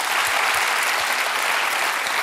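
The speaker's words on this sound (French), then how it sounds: "Applaudissements quand même pour Jean-Claude Van Damme, il le mérite." A television studio audience applauds Jean-Claude Van Damme, a brief but dense and steady burst of clapping from many hands.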